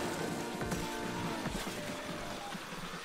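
Steady rain hiss from the Splatoon 2 Salmon Run game fills the scene continuously, with scattered game effects and tonal sounds layered over it and no clear talk.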